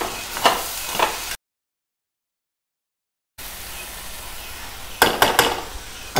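Matki and potato bhaji is stirred and fried in a pan, giving a soft sizzle with scraping, clattering spoon strokes in short bursts, broken by a stretch of complete silence.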